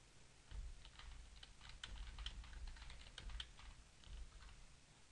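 Quiet, steady typing on a computer keyboard, a continuous run of soft close key clicks with no voice over it.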